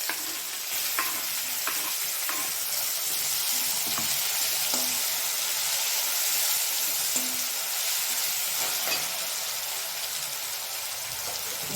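Tomatoes go into a hot pan of frying cauliflower bhaji, giving a steady, loud sizzle with faint stirring scrapes throughout and no talking.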